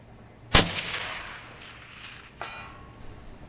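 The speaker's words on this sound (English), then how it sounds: "Hit on the first shot." A rifle fires one sharp, loud shot at an outdoor shooting range, the report decaying into a long echo, followed by a fainter impact crack about two seconds later.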